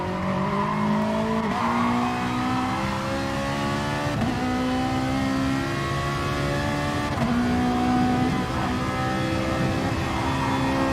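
A race car in a sim racing game drones steadily around the track, its engine note rising through the gears with a short dip at each shift, loud and continuous with no talk.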